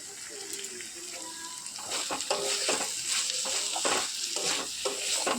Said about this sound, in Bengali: গ্রেট করে রাখা গাজরগুলো দিয়ে দিলাম, দিয়ে আমি ভালো করে মিশিয়ে নেব।